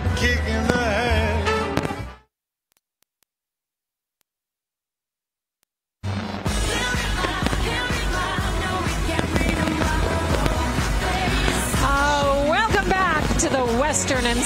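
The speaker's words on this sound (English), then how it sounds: "Great fireworks to go along with it." Fireworks at the 47th annual Western & Southern / WEBN show crackle and boom repeatedly under loud music and a broadcast mix, with a few seconds of dead silence partway through before the bursts resume.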